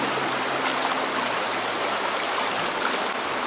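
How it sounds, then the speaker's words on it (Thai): A stream flows past a restaurant in a Pakistani valley, its steady broadband rush of water close and continuous throughout, with no talk over it. "ร้านอาหารมีลำธารไหลผ่าน"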